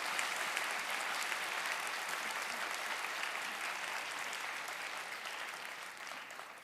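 A large church congregation applauds steadily indoors, a dense wash of clapping that gently fades toward the end.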